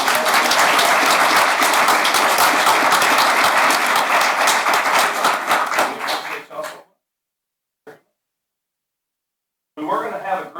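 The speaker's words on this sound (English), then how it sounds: "Let's give another round of applause." Audience applause at a board meeting: a dense, steady burst of many hands clapping for about seven seconds, then breaking off into silence, with a brief sound and a short renewed burst near the end.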